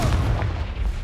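Blasting curse explosions in Hogwarts Legacy boom with dense, rumbling low-end impacts and crackling debris, loud and continuous throughout with no break.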